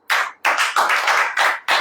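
Congregation at a Christian worship service clapping in a few sharp, loud bursts of several rapid hand claps each, separated by brief pauses.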